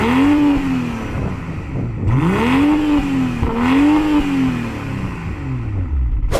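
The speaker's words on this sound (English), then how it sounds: "the exhaust sounds pretty good" A BMW M340i sedan's exhaust revs in three rising and falling swells, a loud nearby engine note climbing and dropping with a deep rumble between pulls, alone without talk.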